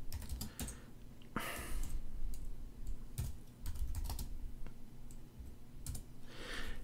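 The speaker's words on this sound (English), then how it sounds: "I'm just going to type in my cost." Someone types a cost figure on a computer keyboard: close, irregular bursts of clicky keystrokes over a faint room hum, with no voices.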